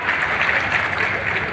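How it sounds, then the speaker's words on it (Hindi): Applause at an airport inauguration ceremony, a steady wash of many hands clapping from a crowd, sustained and fairly loud. "जोरदार तालियां हम सबकी होना चाहिए।"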